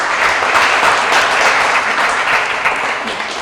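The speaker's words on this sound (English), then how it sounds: "I want everyone to give yourselves a round of applause again" An audience at a graduation celebration for a BOCES electro-mechanical trades program applauds steadily and loudly, a dense wash of many hands clapping that holds at a constant level throughout.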